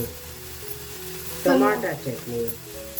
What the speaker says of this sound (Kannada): ಕೈ ಆಡಿಸ್ತಾ ಕೈ ಆಡಿಸ್ತಾ ನೀಟಾಗಿ ಫ್ರೈ ಮಾಡ್ಕೋಬೇಕು